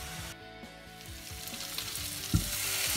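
Ingredients roast in a hot pan with a steady, close sizzle, broken by a few soft stirring scrapes and one brief louder spit near the end. No one speaks.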